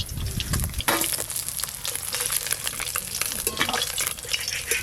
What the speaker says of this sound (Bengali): মাছগুলো 1 মিনিট 2 মিনিট ভাজলেই হয়ে যাবে।